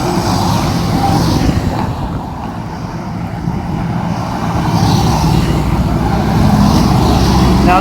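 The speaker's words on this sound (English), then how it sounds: "And this is the traffic." Road traffic on a main downtown artery in Davao City, a continuous close rumble of passing cars and vehicles that swells and eases, with no talking.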